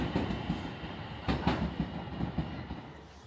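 A Kuroshio express train rumbles past nearby, passing through Kii-Arita Station in Japan, its wheels clacking over rail joints in uneven bursts as the heavy roar gradually fades.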